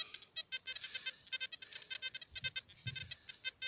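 A metal detector sweeps over a buried aluminium 1-franc coin in a field, giving a rapid run of bright, warbling beeps in quick repeated bursts, close and clear with faint handling thumps.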